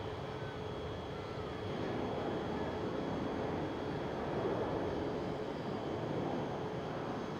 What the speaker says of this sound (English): We do have another departure from runway 18 left. It's right here. 737-800.